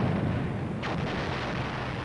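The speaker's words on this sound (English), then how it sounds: "From inside the personnel carrier, we hear a barrage of shell fire laid on the objective." An artillery barrage laid on an objective at Fort Hood, Texas, heard from inside a personnel carrier, comes through as a continuous muffled rumble with one sharper distant boom partway through.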